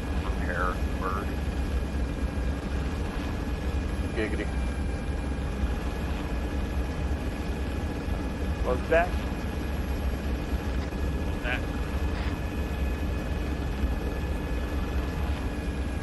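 A steady low engine drone of a helicopter in the military video game Arma 3 runs throughout at moderate level, with a continuous hum beneath brief voice chatter from players.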